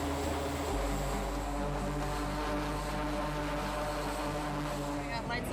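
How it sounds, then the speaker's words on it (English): An aircraft engine on a carrier deck is run up to full throttle ahead of a catapult launch. Its loud, steady roar carries a low drone with tonal whine layered over it, and a voice talks over the noise. "signals the pilot to increase the aircraft's throttle to full power after checking the aircraft's exact placement and deck clearance"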